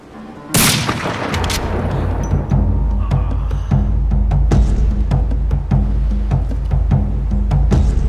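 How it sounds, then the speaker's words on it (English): Gunfire in the stealth shooter Velvet Assassin opens with a loud blast, then repeated sharp shots and booms ring out over a low rumbling game soundscape. "Lots of gunshots"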